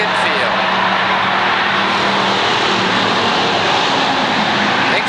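Pure stock race cars at Waterford Speedbowl make a dense, continuous engine roar that stays loud throughout, with a commentator talking over it.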